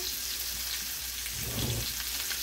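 Meat sears in a hot pan on its second side before going into the oven, a continuous crackling sizzle at moderate level throughout, with no talking.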